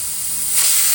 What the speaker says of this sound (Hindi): मीडियम आंच पे बड़ी के कुकर को 2 सीटी आ गई है।